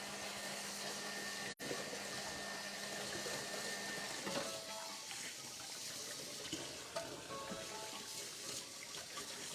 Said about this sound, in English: just rinse out the other one